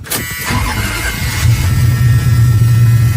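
A 1978 Dodge Macho truck with a 440 V8 cranks and fires up, then settles into a loud, close, rumbling idle that grows steadier over a few seconds.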